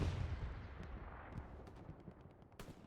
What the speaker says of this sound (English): This artillery is just harming everyone